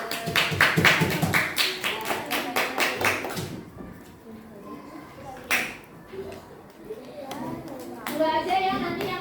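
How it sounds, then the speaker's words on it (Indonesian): A classroom of students clapping together in a practice teaching lesson, a brisk run of loud rhythmic claps that fades out, then scattered taps, with children's voices at the end. "kita berikan tepuk tangan"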